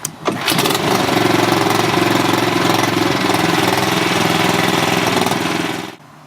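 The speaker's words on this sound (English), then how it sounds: "You've got to warm up your engine." An ATCO Royale lawnmower with a Briggs & Stratton engine starts, then runs loud and close at a steady, rapid chugging idle while warming up, cutting off abruptly near the end.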